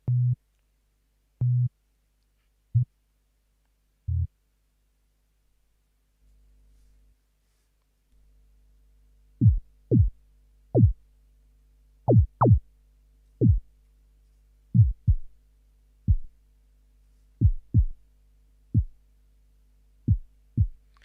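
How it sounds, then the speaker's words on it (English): Synthesized kick drum thumps made from a self-oscillating filter on a Micrologue synth, a few at first, then a gap, then a faster, uneven run of punchy low hits, fairly quiet. "We're gonna use the filter and self oscillation to make this into a bass drum."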